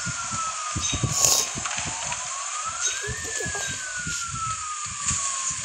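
Police car siren from the mobile game Rope Hero Vice Town, wailing steadily up and down across the clip over muffled game engine rumble and thuds.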